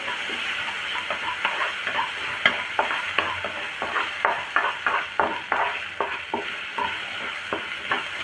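Onions sauté in a pan with a steady sizzle, while a spoon scrapes and stirs in quick repeated strokes close by.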